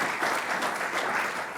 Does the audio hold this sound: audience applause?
yes